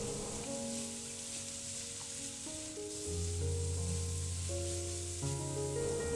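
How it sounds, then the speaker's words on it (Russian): Onions and carrots sizzle steadily in a hot pan over low heat, crackling throughout, with occasional stirring and gentle music underneath. "Жарю еще пару минуточек на небольшом огне."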